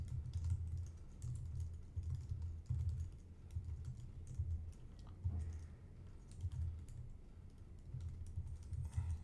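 Someone types on a computer keyboard in quick, soft, irregular bursts of clicks at close range, with brief pauses between runs of keystrokes and no talking.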